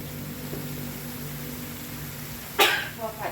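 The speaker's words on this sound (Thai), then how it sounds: "ก็เริ่มจามแล้ว" A single sharp sneeze bursts out near the end during a home cooking session preparing wax gourd for a coconut curry, after a few seconds of steady low kitchen hum, followed by a couple of softer breathy sounds.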